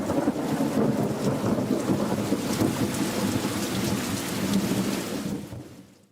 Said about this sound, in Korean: 창밖으로는 빗소리가 들린다.